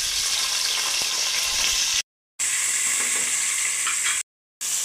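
Onion sizzling in hot oil in a pan, a steady dense frying hiss that cuts out twice briefly, close and fairly loud with no talking.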